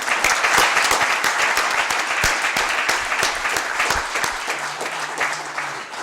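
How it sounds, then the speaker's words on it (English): A county board meeting crowd gives sustained applause for award recipients, dense overlapping clapping held steady and close for several seconds before tapering slightly, with a faint voice near the end. "If we could give one final round of applause to all these recipients."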